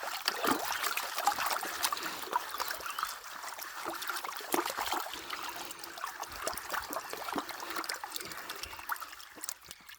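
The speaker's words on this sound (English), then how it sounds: "It's good having running water here because it cleans off." A small creek at a gold panning spot runs with a soft, steady trickle and babble of water, faint and continuous, with no voices.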